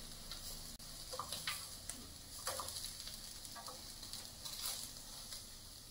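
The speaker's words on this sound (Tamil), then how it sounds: "மசாலா கொஞ்ச நேரம் ஃப்ரை ஆகட்டும், அது வரைக்கும் அப்படியே வச்சிருக்கலாம்" Vanjaram fish coated in masala sizzles quietly on a home barbecue grill, a soft steady crackle and hiss with scattered ticking pops throughout.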